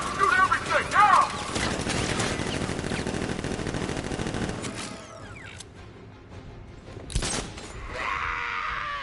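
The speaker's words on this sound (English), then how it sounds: "Guard! Open fire! Shoot everything, now!" Guards in Batman Arkham Knight open fire, a dense burst of rapid gunfire with mechanical clatter filling the first half before fading into quieter game sounds, no talk.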